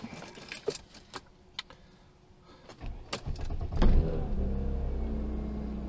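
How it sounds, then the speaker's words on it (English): Clicks and small rattles, like keys and switches, come before a Mercedes engine turns over and settles into a low, steady idle nearby, after a gearbox mount replacement. "Let's start the car, see how she sounds and feels."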